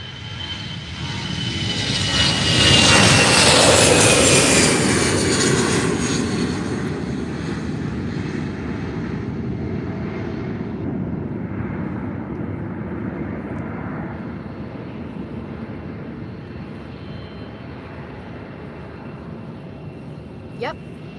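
An EasyJet airliner's jet engines roar at Faro Airport, building to a loud peak and then fading to a long, steady rumble, with people talking over it throughout.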